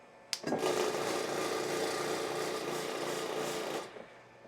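An empty electric flour sifter switches on with a click and runs for about three and a half seconds, giving a steady, close, rattling buzz before shutting off.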